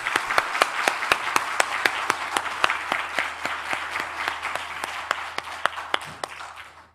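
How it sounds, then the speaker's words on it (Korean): Church audience at a Full Gospel prayer school clapping together, a dense steady wash of applause with sharp individual claps standing out, sustained for about seven seconds before fading at the end. "박수 한 번 더 크게 쳐볼까요?"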